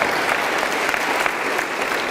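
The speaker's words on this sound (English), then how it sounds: "We must clap for ourselves." Steady, dense applause from a large audience at a public lecture on youth and the fight against corruption, loud and continuous throughout with no break.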